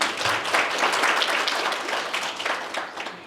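Audience at a roundtable conference on boosting GDP through talent utilization applauds a speaker being introduced, a brief burst of many hands clapping close and full, fading slightly toward the end.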